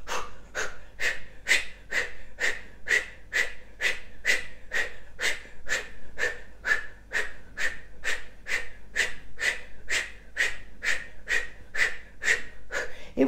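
Powerful rhythmic breathing during a Kundalini yoga exercise, a steady series of about thirty sharp, forceful breaths in quick even succession, close and loud, with no talk over it.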